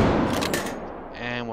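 Rapid bursts of armor-piercing incendiary gunfire in the video game H3VR, loud and close in a short dense volley that cuts off, with a voice speaking over it.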